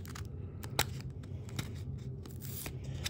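A pack of 2023 Topps trading cards torn open and handled, faint close crinkling wrapper sounds with scattered sharp rips and card shuffling.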